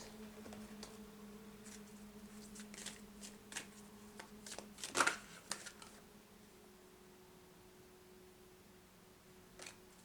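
Oracle cards are shuffled for a healing card reading, a quiet papery riffling patter that builds to a brief louder flurry midway and then trails off into near silence, heard close and soft.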